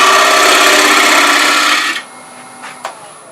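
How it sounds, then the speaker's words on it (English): A wood lathe tool cuts a recess into the back of a turning wooden urn, making a loud, steady scraping whine that stops abruptly at about two seconds, followed by a couple of brief faint knocks. "I need to cut recess in the back."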